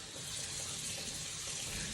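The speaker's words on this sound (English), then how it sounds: "all I'm gonna do is fill this up almost all the way with water." Warm tap water runs steadily into a container, a continuous close, even hiss of water with no other sounds over the short stretch.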